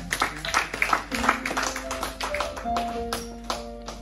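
A church congregation claps and acclaims God in a burst of quick, uneven handclaps over sustained keyboard-like tones, with voices murmuring faintly underneath.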